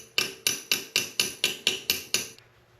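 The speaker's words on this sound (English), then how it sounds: "This is the best hammer I had in my hand." Nine sharp, evenly spaced hammer taps ring out close up during a Turbo 400 transmission valve body teardown, each with a bright metallic attack that quickly decays.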